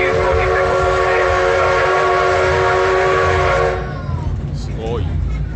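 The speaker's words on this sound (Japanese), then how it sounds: "汽笛の音すごいな" A powerful steam locomotive at the Kyoto Railway Museum sounds a long, loud, harmonically rich whistle for about four seconds before it cuts off, leaving a low rumbling background of the steam train ride.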